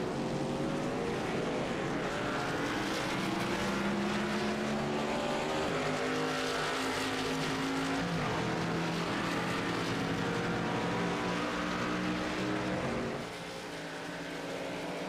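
Race cars roar around the Daytona track in a NASCAR racing video game, a continuous loud layered engine drone with shifting pitches as cars pass, easing slightly at the end.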